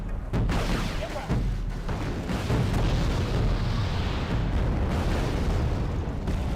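Cluster bomb explosions in the war strategy game Wargame Red Dragon form a loud, continuous barrage of overlapping booms and rumbling bursts, with a voice faintly under the din.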